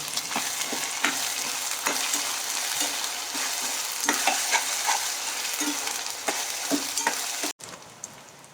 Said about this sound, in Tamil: வெங்காயம் இஞ்சி பூண்டு அதோட பச்சை வாசனைலாம் போகிற வரைக்கும் நல்லா வதங்கட்டும்.